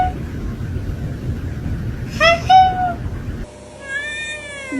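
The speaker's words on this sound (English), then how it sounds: "Can you give one more squeak meow?" A cat gives a couple of short squeaky meows close by, then a longer rising meow after a quiet cut, with a person speaking briefly around them.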